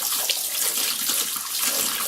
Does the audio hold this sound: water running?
yes